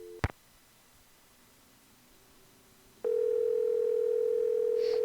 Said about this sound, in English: it says phone is ringing down there instead of up here